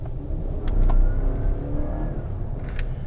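A 2014 GMC Sierra 1500 pickup with the new 5.3-liter V8 drives along, its engine giving a steady, full low hum with mild swells as it pulls.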